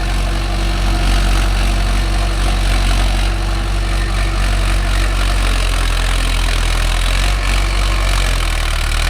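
A Mahindra Arjun Novo 605 DI tractor pulls a five-point cultivator through a field, its engine producing a loud, continuous, heavy rumble with steady vibration and no talk over it.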